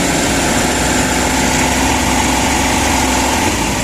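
A Daihatsu K6A engine runs at a steady idle, a continuous mid-pitched hum with a faint whine layered over it, close and fairly loud throughout with no talking.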